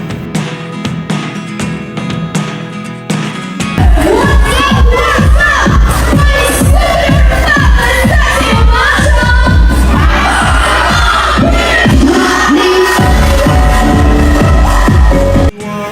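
Loud concert crowd screaming and cheering continuously, surging after a few seconds and drowning out the singer on stage, a dense roar of many voices with shrill shouts throughout.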